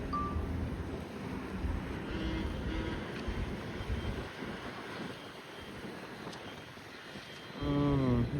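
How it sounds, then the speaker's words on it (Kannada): Wind blows steadily outdoors, a continuous low buffeting rumble across the mic that holds at moderate level and swells slightly louder near the end. "ಗಾಳಿ ಹೋಗ್ತಿದೆ."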